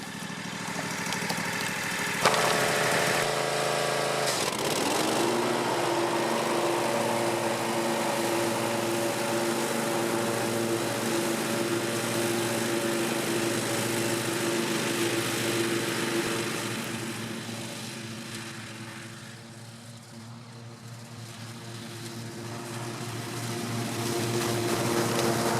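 A Cub Cadet Ultima ZT2 zero-turn mower with a 54-inch deck runs loud and close, its engine holding a steady drone under load, then dipping and swelling again partway through.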